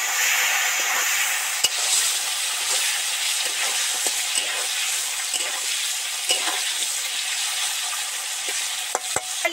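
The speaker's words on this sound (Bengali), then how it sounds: "আলু টমেটো তো ডিপ ফ্রাই করে ভাজতেই থাকছি" Potatoes and tomatoes deep fry in oil with bay leaves and five-spice seeds, giving a steady, close, dense sizzle that never lets up, broken by a few sharp spatula clicks and no talking.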